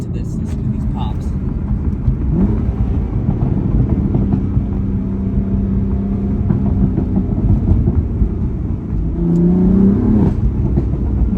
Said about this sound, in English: Listen to these pops.